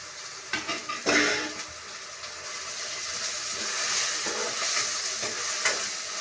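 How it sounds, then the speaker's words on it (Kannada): Ginger garlic paste frying in a pan, a steady sizzle with a few clinks of a spoon stirring against the metal early on. "ಅದು ಸ್ವಲ್ಪ ಘಮ ಅನ್ನೋವರೆಗೂ ಫ್ರೈ ಮಾಡೋಣ."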